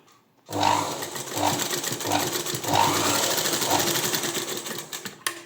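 A sewing machine stitches folded dori cord, whirring steadily and close with a fast rhythmic chatter for about five seconds before stopping abruptly.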